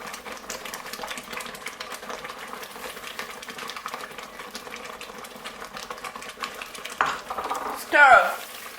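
A spoon stirs ground Njangsa into boiling tomato sauce in a pot, giving a steady bubbling sizzle with soft scraping, then a few louder clanks of the utensil against the pot near the end.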